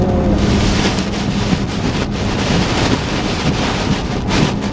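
A car passing a semi truck on a wet, snowy road, pelted by spray: a loud, steady rush of wind, road noise and water hitting the body, close and continuous with no talk.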